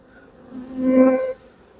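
Honeybees crowding around a queen inside a hive give off a humming buzz that swells to a close, fairly loud peak for about half a second, then drops away.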